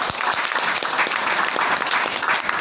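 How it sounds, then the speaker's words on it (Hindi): A seminar audience in a hotel hall applauds, with continuous, dense clapping at a strong, even level from start to finish. "जोरदार तालियां ओमेगा 3 के लिए।"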